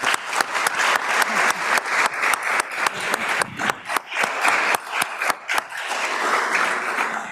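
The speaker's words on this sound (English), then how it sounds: "So maybe we can welcome her with a clap." Applause from a conference audience welcoming an organizer, with rhythmic, fairly close clapping that swells and then thins out toward the end.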